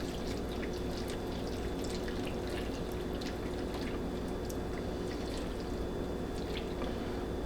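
Liquid pours over venison sirloin tip stew in a crockpot, a continuous close trickle with faint splashy drips running steadily throughout, with no talking.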